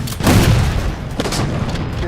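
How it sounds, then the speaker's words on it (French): Explosions boom in the Halo 4 video game, a loud close blast followed by a rumbling, crackling wash of gunfire-like bursts over about two seconds. "quelles explosions qu'il y a partout"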